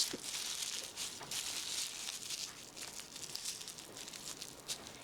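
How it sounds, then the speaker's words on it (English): Thin plastic shopping bag handles twisted around a folded bag and tied, a steady close crinkling and rustling that runs on without pause. "you're gonna twist the handles around the folded bag and then tie them up."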